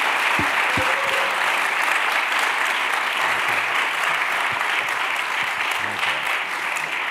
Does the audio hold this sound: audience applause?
yes